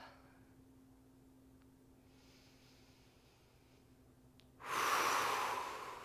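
A single loud, close breath bursts out sharply near the end after several seconds of near silence, during slow diaphragmatic belly breathing in an active recovery session.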